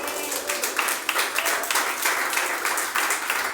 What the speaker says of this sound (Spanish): ¿No le dan un aplauso al Señor por eso?